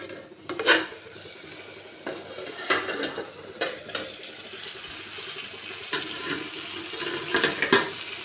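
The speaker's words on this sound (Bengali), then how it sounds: "দেখুন আমি এবারে ঢাকাটা খুলে দিচ্ছি।" Lid lifted off a cooking pot of pumpkin and potato curry simmering on a low gas flame, giving a few light metallic clinks and scrapes against quiet kitchen background.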